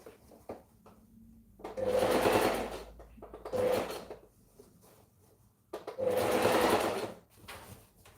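A sewing machine stitches a sleeve onto a garment in three separate bursts of close whirring, divided by quiet pauses with faint handling sounds.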